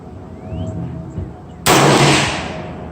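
A single sharp, loud report from an AR-15 rifle chambered in 300 Blackout, cutting in suddenly after quiet chatter at an outdoor range and trailing off in a short echoing decay.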